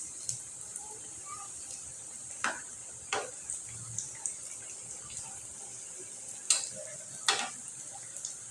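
Dough for nimki, a sweet and spicy fried snack, sizzles steadily in a pan of hot oil, a constant hiss broken by a few sharp scrapes and clicks as it is turned.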